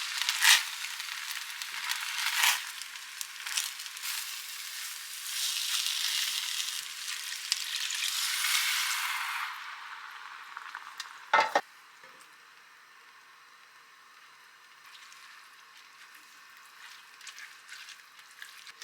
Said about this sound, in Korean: 그다음에 들기름 쌀이랑 버섯이랑 같이 볶아주세요.